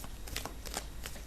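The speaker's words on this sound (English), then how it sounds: "we'll get the cards shuffled out for you for this month." Tarot cards riffled and shuffled in a few soft, papery bursts, close and quiet with no talking.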